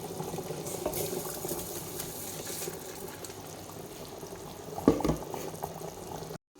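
Water boils in a pot on the stove while mutton biryani is cooked with seeraga samba rice, a steady soft bubbling and simmering hiss, with a brief clink near the end.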